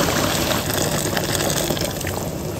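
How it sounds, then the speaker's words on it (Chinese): Boiling water gushes into a pot of browned beef and tomato with spices, a loud, close, continuous pouring rush that stays full and steady for the whole span, with no talking. "一定要倒开水，多倒一点"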